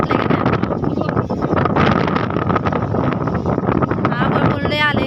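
Wind gusts steadily across open village farmland as dark storm clouds roll in, a constant rough, blustery rush buffeting the microphone, with a person talking over it.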